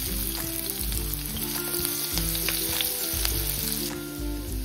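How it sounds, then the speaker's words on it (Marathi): Finely chopped onion fries in hot oil in a kadhai, giving a dense, steady sizzle with small crackles and a low background hum, no voices. "तेल हलकसं गरम झालं ना की यामध्ये आपल्याला बारीक चिरलेला कांदा टाकायचा आहे"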